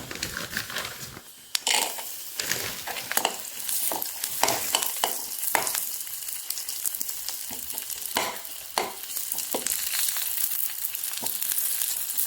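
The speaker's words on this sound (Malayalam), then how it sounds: "നട്ട്സ് ഒന്ന് മൂത്ത് വരുമ്പോഴത്തേനും നമുക്ക് മുന്തിരി ഇട്ട് കൊടുക്കാം" Cashew nuts and raisins fry in a small amount of ghee in a pan, giving a constant close sizzle. Repeated stirring scrapes sound over it in irregular bursts.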